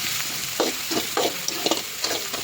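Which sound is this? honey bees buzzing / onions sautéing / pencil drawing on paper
onions sautéing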